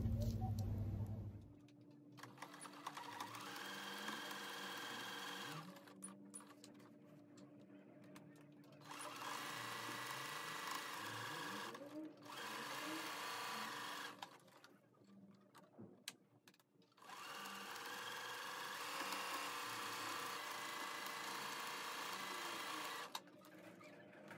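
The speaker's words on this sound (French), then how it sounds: "on va coudre à 1 cm du bord." Sewing machine stitching fabric one centimetre from the edge, quiet rapid mechanical whirring in several runs separated by short pauses, close by.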